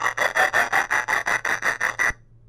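A GarageBand sound effect for an EDM transition plays as about ten rapid, evenly spaced raspy scraping pulses, bright and loud, then stops abruptly and leaves near silence.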